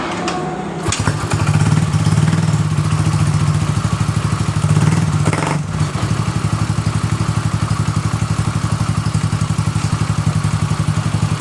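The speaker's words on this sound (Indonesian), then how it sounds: "Motor ini hidup dengan normal dan langsung pun normal." A Yamaha Mio Soul GT fuel-injected scooter with an intermittent stalling fault starts up with a brief cranking burst, then settles into a loud, steady, close idle.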